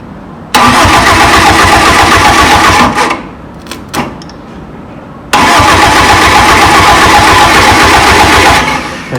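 A Toyota 4E-FTE engine cranks and fires loudly up close, runs for a couple of seconds, cuts out, then starts again and idles roughly before dropping off.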